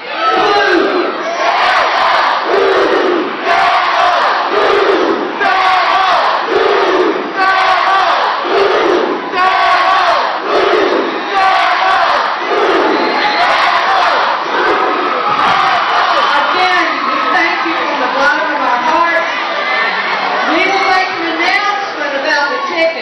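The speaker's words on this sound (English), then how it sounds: "Can we show Dreher what it sounds like when the Blue Devil Nation goes?" A large Blue Devil Nation crowd at Dreher chants and roars in a loud, rhythmic call-and-response, voices surging together in repeated bursts.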